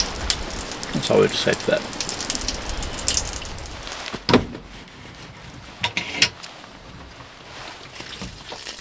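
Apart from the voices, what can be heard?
rain falling during wet pack-down in Alaska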